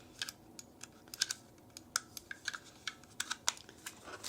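Typing on an NXT Technologies wireless keyboard gives a steady patter of soft, close key clicks at an uneven rhythm, quiet and with no talk.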